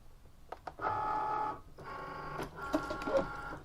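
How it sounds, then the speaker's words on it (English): A Cricut cutting machine draws in a cutting mat with a steady mechanical whir, running in several bursts separated by short pauses, close and fairly loud with no voices. "Now I'm going to take and feed my mat into the machine."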